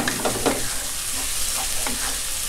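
Shrimp cook in a hot pan during a Chinese-style stir-fry, a dense continuous sizzle with a few soft utensil scrapes, close and fairly loud, with no voices.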